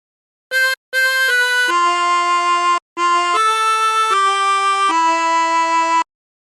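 A 16-hole tremolo harmonica plays a phrase of How Great Thou Art: a few short notes, then sustained wavering chords with a brief pause midway, loud and close with no talking.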